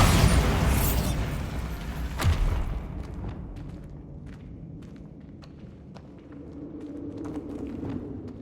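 Blast of the Bombarda spell in Hogwarts Legacy: a loud booming burst at the start, ringing out and fading into scattered debris clatter and soft footsteps.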